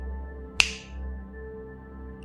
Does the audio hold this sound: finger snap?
yes